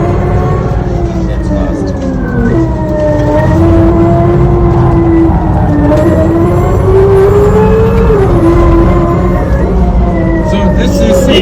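A Hyundai RN22e electric car circles a racetrack, its synthetic engine tone whining and rising and falling as it steps through simulated gear shifts, loud and continuous, while people talk inside the cabin.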